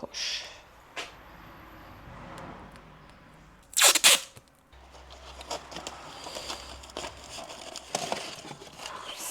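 Adhesive tape is pulled from a roll and torn while a parcel is packed, with a short, loud ripping burst in the middle between quieter handling and rustling noises nearby.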